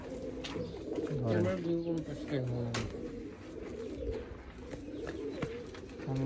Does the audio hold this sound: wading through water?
no